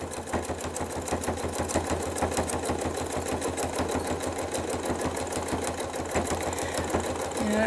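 A sewing machine stitching couching runs steadily throughout, with a fast, even needle rhythm that is close and loud.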